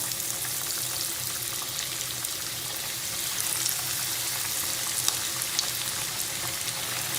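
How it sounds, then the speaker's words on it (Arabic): KFC-style chicken deep-frying in plenty of hot oil, a loud, dense, continuous sizzle with crackling pops scattered through it, close and unbroken, with no talking. "صافي دابا غادي نبدا في القلي"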